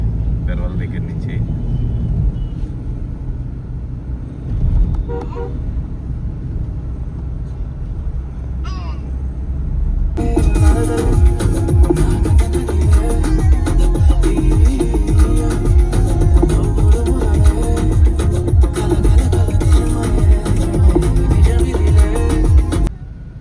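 Heavy road traffic near Peravali and Ravulapalem, heard from inside a moving car: a loud, continuous engine and road rumble that swells sharply about halfway through, with brief tonal blips that may be horns.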